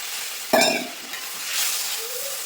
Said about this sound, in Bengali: মশলা থেকে তেল ছাড়তে কিন্তু শুরু করে দিয়েছি আর একটু কষাবো